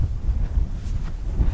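Gusty wind on the North Sea coast by the Meldorf Bay harbour flood gate, a steady low rumble buffeting the microphone throughout, with no voices.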